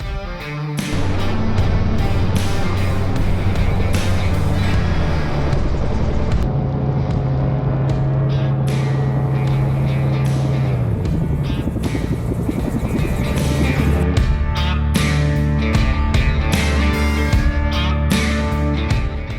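A Magni gyroplane with fat tires flies and comes in to land near a long runway, a loud continuous rotor and engine drone with beating pulses, pitch steady then falling off as power is reduced.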